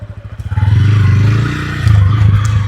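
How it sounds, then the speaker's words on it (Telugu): A 2026 TVS Ronin base-model motorcycle ridden off-road, its engine note steady and close with a low rumble that swells as it pulls, with clattering from the rough ground underneath. "సో ఆఫ్ రోడింగ్లో టెస్ట్ చేద్దాం ఈ బండిని."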